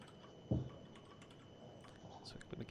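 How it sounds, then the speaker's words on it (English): Loud clacking keystrokes on a computer keyboard, one sharp hit near the start and then a lighter scattered patter of keys in a quiet room. "someone's typing really loud"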